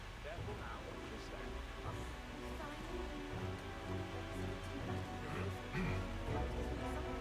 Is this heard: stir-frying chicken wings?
no